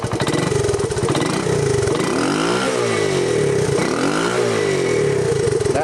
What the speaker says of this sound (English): it revs.